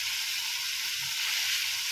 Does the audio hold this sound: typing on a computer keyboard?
no